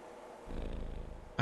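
A cat purrs in the video game Marvel's Midnight Suns, a soft low rumbling purr that starts after a brief pause and continues steadily, ending in a short brighter sound.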